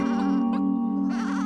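A cartoon sheep from a children's building show gives one drawn-out, wavering bleat that breaks briefly in the middle, heard alone at close range over a low steady hum.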